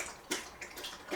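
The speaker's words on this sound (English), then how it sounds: "The dog's drinking water in the background." A dog laps water from a bowl in the background, a few faint wet slurping splashes in an irregular rhythm, quiet and somewhat distant.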